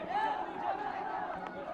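An agitated street crowd during unrest in Bahraich, with many overlapping shouting voices blending into a dense, continuous roar that stays loud and close throughout.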